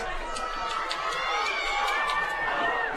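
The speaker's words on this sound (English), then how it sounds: "The crowd trying to get the Mustangs back into this game." Football crowd cheering on the Mustangs in a game against Brush, a steady, dense roar of many voices that holds throughout without a break.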